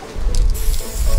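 Spray paint tool in a drawing game, a short breathy hiss in two quick bursts, close and fairly loud, with no talk.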